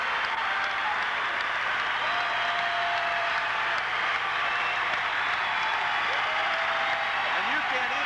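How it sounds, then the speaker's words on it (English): A packed crowd at a 1982 high school basketball regional championship roars and applauds continuously during team introductions, a dense, loud wall of cheering that drowns out everything else. "you can't even hear the PA announcer, public address announcer, introduce the Canes because this crowd is so noisy"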